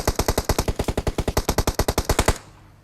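Rapid automatic gunfire in a video game, a sustained burst of about twenty evenly spaced loud shots that stops abruptly into quiet.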